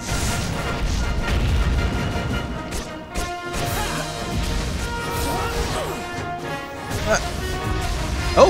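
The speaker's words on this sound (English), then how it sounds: "flashbang! Flashbang!" Crashing blasts and clattering impacts in a Monster Hunter crossover game, loud and continuous with tonal game music layered underneath, as a voice shouts over the action.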